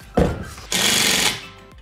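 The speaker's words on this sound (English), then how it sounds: "use an impact drill on this" A short mechanical burst followed by a longer, harsh rattling whir of an impact drill driving screws close by for about half a second, then stopping.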